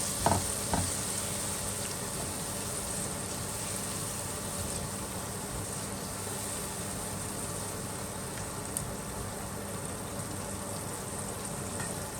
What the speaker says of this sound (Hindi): अब इसे दम पे पकाएंगे 2 से 3 मिनट के लिए मीडियम फ्लेम के ऊपर